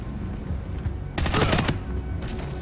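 Call of Duty Ghosts gunfire, a loud, rapid automatic burst of about half a second over a steady background rumble, followed by a brief shorter burst near the end.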